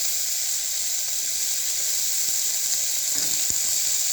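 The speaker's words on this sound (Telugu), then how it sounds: "ఆలుగడ్డ కొంచెం వేగాల" Potatoes fry in a pan with onion and curry leaves, giving a steady, close, continuous sizzle and hiss with faint clicks and no talking.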